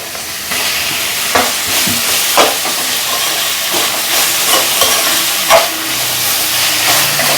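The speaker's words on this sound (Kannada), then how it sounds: "ಇವಾಗ ಟೊಮೊಟೊ ಹಾಕ್ಕೊತಾ ಇದ್ದೀನಿ" Tomato hits hot oil in a pan and fries with a loud, close, continuous sizzle, punctuated by several sharp stirring scrapes and spatters.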